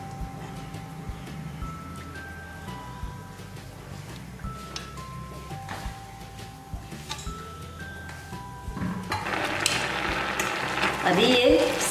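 Carrot halwa with milk cooks in a pan, giving off a soft continuous simmer and sizzle under gentle scraping as it is stirred. Faint tones sound in the background, and the bubbling grows louder toward the end.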